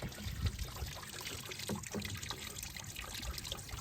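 Water from a hose trickles and splashes into a cattle water trough fitted with a brass float valve, a steady close liquid pour with no talking.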